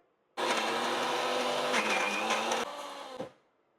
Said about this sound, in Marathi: हे मिक्सर का हलतंय?